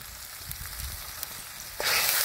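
Ground spice masala of chilli, turmeric, coriander, cumin, ginger paste and salt fries in a pan in a village kitchen, a soft continuous sizzle that swells into a louder, brighter hiss near the end, close with no talk.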